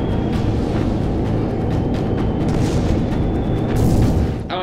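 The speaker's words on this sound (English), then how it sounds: "We are coming under enemy fire!" Enemy fire explodes around a ship in the naval combat game Battle Stations Pacific, a dense, continuous rumble of booms and blasts with a sharper burst near the end.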